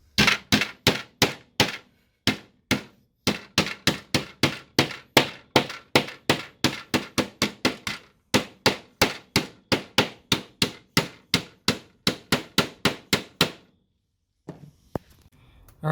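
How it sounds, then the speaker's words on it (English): Dozens of sharp, close hammer blows flatten the edge of a fabricated ECU heat shield for an Alfa Romeo 147 GTA, struck in quick, slightly uneven bursts with short pauses, then stopping abruptly. "Just use a little bit of force and hammer it down, and then that will make a nice flat edge for your heat shield."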